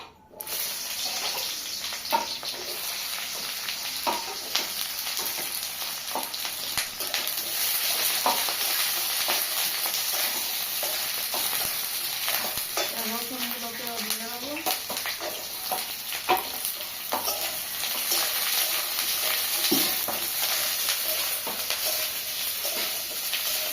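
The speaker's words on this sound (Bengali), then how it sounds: "এবার যে উপকরণগুলো ভেজে নেবো পেঁয়াজ প্রথম দিয়ে দেবো" Onions frying in a pan for a Bengali potato curry, a steady broad sizzle throughout with scattered clinks and scrapes of stirring, close and fairly loud, plus a brief patch of faint background voice midway.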